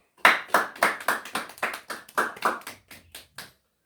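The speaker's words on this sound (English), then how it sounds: "Round of applause for him." A church congregation claps in unison to welcome the preacher to the pulpit: about a dozen sharp, evenly spaced claps in a steady rhythm, close and loud, thinning out toward the end.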